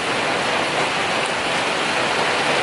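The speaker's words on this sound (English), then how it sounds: "it's pouring down with rain" Heavy rain pouring down in a torrential downpour, a steady dense hiss of water falling on surfaces, loud and continuous with no talking.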